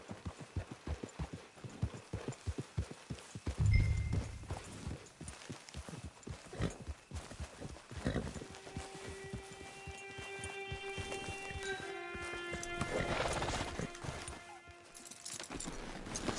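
A horse in the Red Dead Online game, its hooves clip-clopping steadily at a walk, followed by a long brassy whinny and a stretch of quieter ambient tones.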